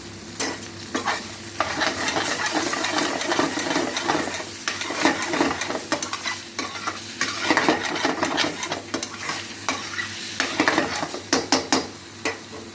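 Ginger paste fries in a pan for Handi Paneer while a spoon stirs and scrapes it steadily, with scratchy clicks and a low sizzle, close and fairly quiet, with no talking.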